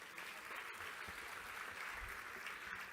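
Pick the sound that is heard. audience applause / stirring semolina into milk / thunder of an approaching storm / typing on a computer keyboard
audience applause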